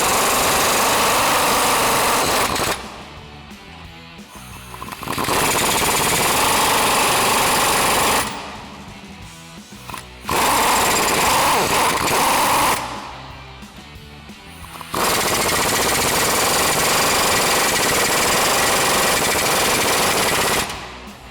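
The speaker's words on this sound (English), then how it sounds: "So now we'll grab our 22 mil socket on our impact and snug these down" An impact wrench fitted with a 22 mm socket hammers U-bolt nuts tight on a GMC Sierra 1500 during a ReadyLIFT 4-inch lift kit install, in three loud, sustained rattling bursts separated by brief quieter pauses.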